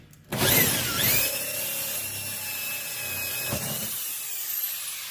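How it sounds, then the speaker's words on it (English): An angle drill whirs into metal, removing bolts during a heater installation, with a harsh grinding onset that settles into a steady high-pitched whine, close by, no talking. "You can come in here with your angle drill and"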